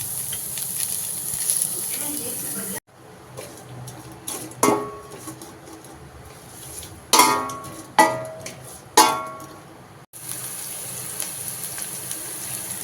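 Curry leaves hit hot oil for a Tamil chicken kuzhambu, giving a close hissing sizzle broken by a few sharp clanks of a utensil against the pan.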